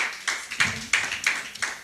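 Church congregation clapping together in a steady rhythm of about six sharp claps, close and fairly loud with no voices over them.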